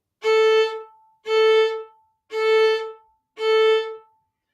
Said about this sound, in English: practice this on your open strings just by letting the bow come to a stop